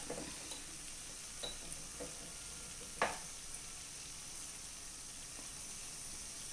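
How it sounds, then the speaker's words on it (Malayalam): Cashews roast in a hot pan with a steady low sizzle, broken by a few soft scrapes and clinks as they are stirred now and then, the loudest knock coming near the middle. "ഒരു 5 മിനിറ്റ് ഇടയ്ക്കിടയ്ക്ക് ഇളക്കി കൊടുത്ത് നമുക്കിത് വറുത്തെടുക്കാം"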